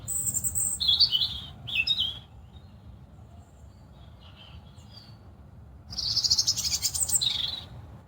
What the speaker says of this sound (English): the bird that's singing is singing so sweetly